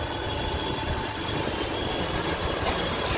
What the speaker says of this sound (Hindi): ये हमारा रेलवे स्टेशन।